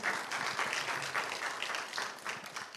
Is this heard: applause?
yes